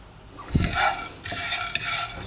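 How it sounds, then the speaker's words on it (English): Whole spices for egg curry are dry-roasted in a pan, with scraping spoon strokes and a faint sizzle coming in a few close, uneven bursts. "These spices are nicely roasted now."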